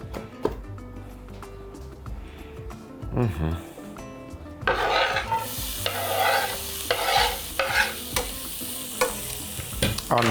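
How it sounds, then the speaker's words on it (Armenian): Finely chopped red onion fries in plenty of hot vegetable oil while being stirred. Scraping stirs give way to a loud, close sizzle, and a voice speaks over it. "Առատ բուսայուղ ենք տաքացնում, կվերցնեմ 2 միջին գլուխ կարմիր սոխ, մանր կտրատում և տապակում ենք։"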